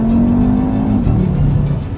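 2015 Audi RS3 fitted with the optional sports exhaust, a loud, close, steady engine drone that drops in pitch halfway through with no talking.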